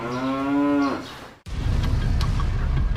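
A cow lets out one long, loud, close moo with rich harmonics, then it cuts off and a rumbling farm background with faint clatter follows.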